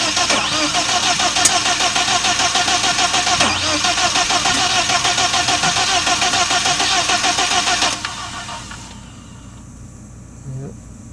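A BMW M44 four-cylinder engine cranks and fires into a loud, rough, steady run that cuts off abruptly near the end, leaving quieter background sound with a faint voice.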